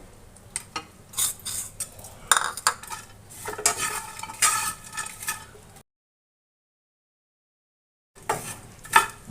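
Gujiya filling being stirred in a pan over a low flame, with scraping and clinking of the spoon against the metal in an irregular rhythm, close and moderately loud, then a few seconds of silence before the stirring resumes.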